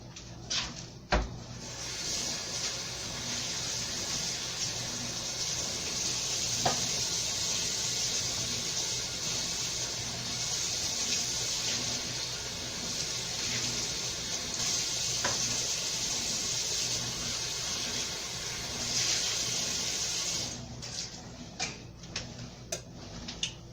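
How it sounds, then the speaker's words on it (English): A 1-cup and a 1/2-cup measuring cup are rinsed under a running kitchen tap, giving a steady rushing wash of water for about twenty seconds, with a few faint knocks and clinks at the start and end. "I'm gonna rinse out my 1 cup measuring cup and my 1/2 cup"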